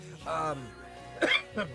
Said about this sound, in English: I'm so sorry, I coughed.